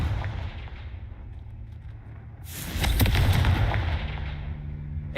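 A blast from the Confringo explosive spell in Hogwarts Legacy lands partway through, a sudden burst of crackling impact over a low rumbling game backdrop, with no talking.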